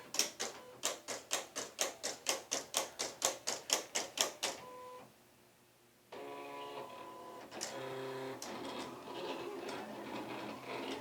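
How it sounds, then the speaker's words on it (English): A Silhouette Cameo 3 cutting machine reads its registration marks with a fast, even series of rhythmic clicking pulses, pauses briefly, then starts cutting with a steady motor whir and shifting mechanical tones, all close and fairly quiet. "now that it's read the registration marks, it's going to go ahead and start cutting"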